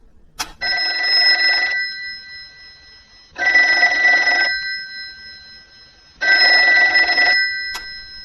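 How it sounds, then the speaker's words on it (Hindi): A telephone bell rings in three long bursts separated by pauses, loud and close, with a couple of faint clicks in between. "अचानक फोन की घंटी बजी।"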